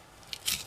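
A kitchen knife slicing a raw potato in half for homemade wedges, a brief close crunchy cut ending in a sharp snap as the blade meets the board.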